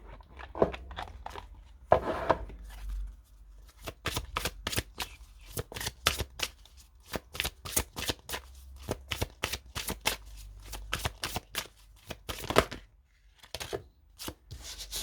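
Oracle of Gaia deck cards being shuffled up close, a long run of crisp repeated riffling snaps and flicks with brief pauses and no talking.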